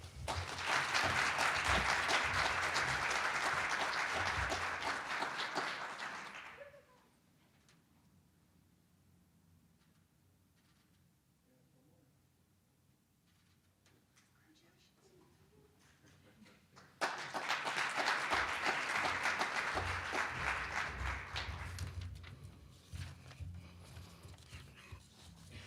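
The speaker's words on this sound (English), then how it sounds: "Let's give our 5 graduates of excellence another round of applause." Audience applause at an awards ceremony honoring graduates, a loud wash of clapping that fades to a quiet lull in the middle, then swells again into a second sustained round.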